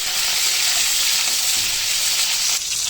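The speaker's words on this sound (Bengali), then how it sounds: "উস্তাটা ভেজে নিব আগে ভালোভাবে" Bitter gourd frying in hot oil in a pan, a continuous loud, dense sizzle with faint scraping of stirring underneath, steady throughout with no talking.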